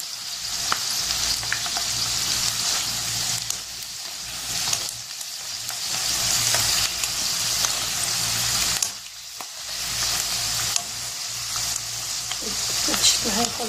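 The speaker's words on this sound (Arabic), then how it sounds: "شايفين مجرد ما حطيتها في الزيت بتبتدي بقى ايه تنشف عندي" Egyptian baghasha dough, made with starch, frying in hot oil with a steady, close, bright sizzle that continues throughout, a few brief dips and soft stirring noises along the way, no talking.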